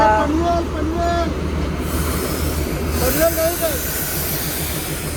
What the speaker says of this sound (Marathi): गाईज ट्रेन आलेली आहे.